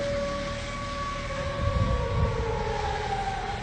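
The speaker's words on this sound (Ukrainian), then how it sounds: "Слышите, работает ПВО, сирена." An air-raid civil defense siren wails steadily in the distance during a night drone attack, a sustained tone holding over low outdoor rumble without talk.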